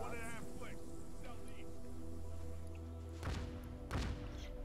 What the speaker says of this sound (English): So what you're hearing are essentially the cannons firing